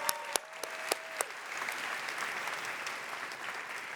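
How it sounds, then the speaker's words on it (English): Audience applause at a tech conference keynote, opening with a few sharp individual claps and quickly swelling into a steady wash of clapping from the crowd. "Please give another round of applause for Cassidy, Tim, Irene, and Karan."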